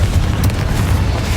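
A Confringo fire spell in Hogwarts Legacy on PS5 bursts in a short, loud, dense blast with a low rumble and crackling fire.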